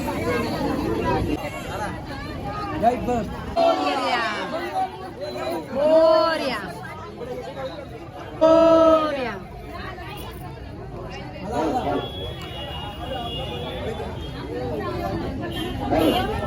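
Crowd chatter surrounds a Ganpati palanquin procession from Mohopada to Mahad, with overlapping voices and nearby speech over a busy outdoor babble.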